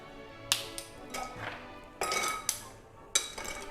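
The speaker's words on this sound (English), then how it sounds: "we're going to break up our ice first to help with the dilution of the drink as we're stirring" Ice for a cocktail is cracked and broken up in a few sharp, close hits and clinks, spaced irregularly, with no talking.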